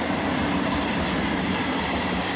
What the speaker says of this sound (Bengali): সাইডে কি আসছে এটা? কি আসছে এটা? চমকে গেছি, হয়েছে মালগাড়ি।